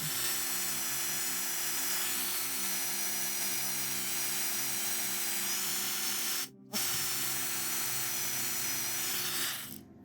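A small rotary tool with 400 grit abrasive touches up a lock pin, giving a steady, high, whining hiss that runs continuously, cuts out briefly once and then resumes close by, with no speech.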